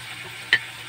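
Chicken sizzles in a pan with tomatoes as it fries, giving a steady hiss broken by one brief, sharp utensil clink.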